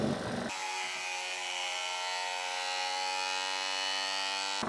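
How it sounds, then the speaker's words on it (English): An Anova chamber vacuum sealer runs a cycle, its pump kicking in abruptly with a loud, steady, buzzing motor drone that holds a constant pitch close to the microphone without talk. "hopefully the vacuum sealer is not too loud"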